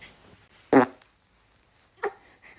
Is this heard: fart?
yes